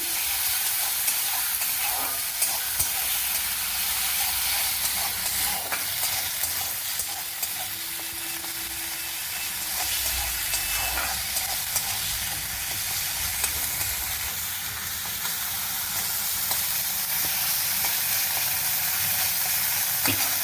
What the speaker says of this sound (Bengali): জলে গুলে সব মশলা দিয়ে দিলাম। মশলাটা ভালো করে ভাজতে হবে।